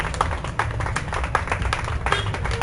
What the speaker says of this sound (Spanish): dale un aplauso al Señor en esta noche